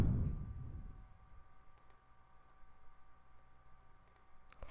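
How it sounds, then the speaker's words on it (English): A computer mouse clicks on a software apply button, giving a couple of faint, brief clicks in an otherwise quiet room. "If I go ahead and click apply"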